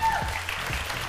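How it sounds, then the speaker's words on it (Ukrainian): Studio audience applause on a Ukrainian talent show as the expert judges are welcomed, a steady dense patter of clapping throughout with a brief voice cutting through near the start. "І так зустрічайте оплесками наші експерти."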